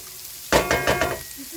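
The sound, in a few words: soy chunks frying and toasting in a pot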